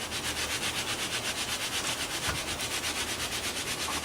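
A steady scraping rub as a straightedge is drawn across wet concrete on a countertop form to strike off the excess, a continuous gritty swish with a faint periodic pulse throughout, close and alone with no voices.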